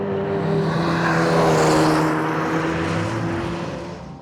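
Hyundai Elantra N TCR front-wheel-drive race car at speed on a track, its engine a loud steady drone with harmonic whine that swells and fades slightly over a few seconds, no voices.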